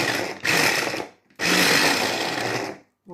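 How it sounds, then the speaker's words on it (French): Compact Cook Pro food processor chopping ingredients for pistou, running in two loud, steady whirring bursts with a short pause between them, close up and with no talk. "Donc, je vais hacher."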